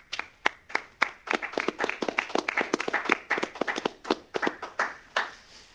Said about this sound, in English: another round of applause for our 33rd class of Air Force Research Laboratory Fellows